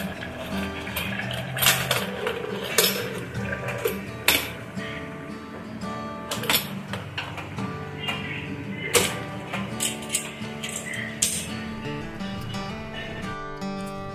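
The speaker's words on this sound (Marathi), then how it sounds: "आता आपण आहे ना कुकरचं झाकण लावून घेऊया" Lid being fitted onto a pressure cooker of boiling pulao rice: metallic clanks and clinks of the cooker lid and pot, repeated and close, over a steady background hum.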